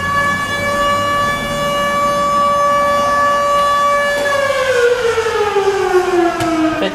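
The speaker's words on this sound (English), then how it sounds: "Successful pager siren test, thank you." A fire company's major siren sounding during a pager test in Bedford County: a loud, steady mechanical wail holds its pitch for several seconds, then winds down in a falling glide, alone with no talking.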